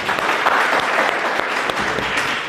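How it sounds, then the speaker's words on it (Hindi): An audience at a motivational talk claps loudly and continuously, a dense, even wash of applause with occasional sharper claps poking through. "यार ज़बरदस्त तालियां बजाओ इनके लिए।"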